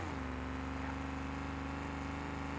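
A Ford Bronco engine idling in BeamNG, a steady drone with a low rumble and a constant tonal hum that does not change pitch.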